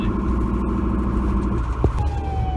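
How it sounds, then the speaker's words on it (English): An ambulance siren wails steadily from inside the vehicle as it drives with lights and sirens on a night EMS shift, a loud sustained tone over engine and road noise, without speech. "we're gonna drive lights and sirens because it's fun and that's what we're supposed to do"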